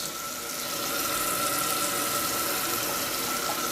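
Hot water pours steadily from a tap onto a de Buyer carbon steel pan coated in beeswax, a continuous close splashing rush with no voices.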